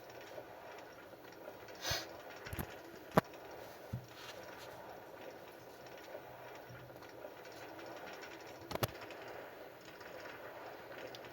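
A train rolls along a player-built railway in Minecraft, giving a quiet steady rumble with a few sharp clicks and clunks scattered through, no talk.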